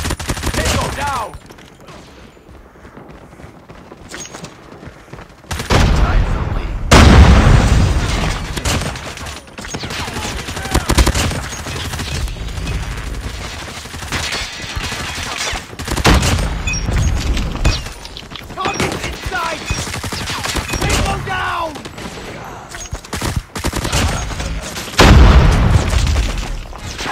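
Explosions and gunfire in the mobile shooter Call of Duty Mobile, with loud booming blasts and bursts of fire coming in waves, broken by quieter stretches.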